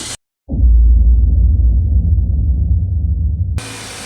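A car engine catches after a brief silence and settles into a steady, loud, low idle following a belt replacement, then the sound drops off abruptly near the end.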